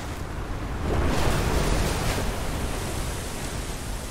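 Loud rushing water in the video game Outer Wilds: Echoes of the Eye, a continuous surging roar that swells briefly near the start and then holds steady, with no talking.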